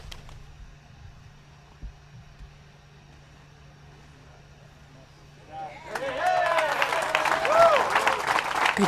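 Crowd of spectators at the 2023 PDGA Pro Worlds disc golf tee breaks into applause and cheers for the player, starting around six seconds and swelling loud, with whistles, after a quieter stretch of murmur and a steady hum.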